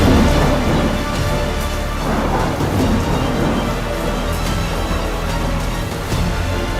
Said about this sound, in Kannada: ಕರುನಾಡಲ್ಲಿ ಶುರುವಾಗಿರೋ ಆರಿದ್ರ ಮಳೆ ಅಬ್ಬರ ಅಲ್ಲೋಲ ಕಲ್ಲೋಲವನ್ನೇ ಸೃಷ್ಟಿ ಮಾಡ್ತಿದೆ